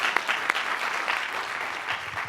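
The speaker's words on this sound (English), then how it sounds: "round of applause" Audience applause at an entrepreneurial summit held at the United Nations, a steady wash of many hands clapping throughout with a few sharper claps near the start, moderately loud and continuous.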